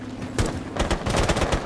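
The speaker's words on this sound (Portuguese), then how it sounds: "dei tiro na cara dela" Rapid bursts of gunfire in the video game Rainbow Six Siege, a sharp shot followed by several quick volleys crackling close and loud, with no talk over them.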